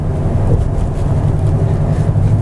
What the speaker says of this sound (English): about the only thing you hear on the road is the exhaust